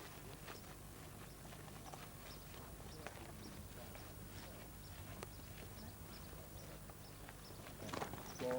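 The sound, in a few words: horses walking, hooves clip-clopping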